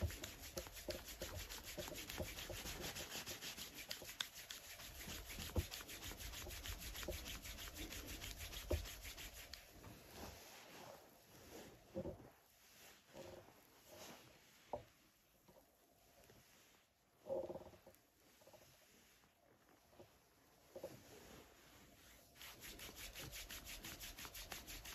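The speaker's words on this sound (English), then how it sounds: "Rub your hands together a little bit." Hands rub briskly together before a massage, giving a close, steady frictional swishing that carries on for several seconds, then gives way to quieter, broken rubs and soft touches.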